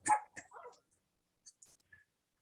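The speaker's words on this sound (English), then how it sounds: "No, that's a doggy." A dog barks once in the background with a few short softer yips and whimpers after, faint and intermittent against otherwise quiet surroundings.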